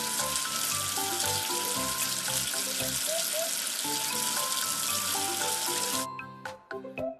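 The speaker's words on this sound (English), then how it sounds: "Wash away the soap with water." Running water rinses soap away in a steady, loud, rushing stream under light background music, then cuts off, leaving a few drips and splashes.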